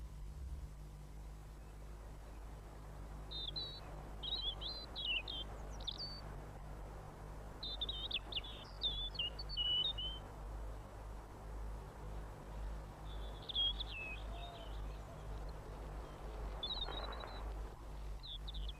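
A male robin singing from a song post in a British garden, short warbling phrases repeated in bursts with pauses between, fairly distant over a low steady background hum.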